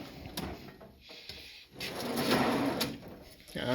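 A power-tool drawer in a mechanic's toolbox slides open with a long metallic rolling rumble, with a few clicks and knocks before it, heard close up.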